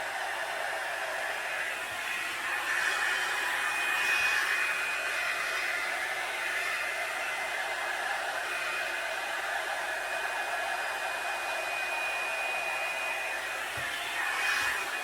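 A Revlon blow-dryer hair brush drying hair gives off a steady, close airy whir and hiss that holds evenly throughout, with no talking.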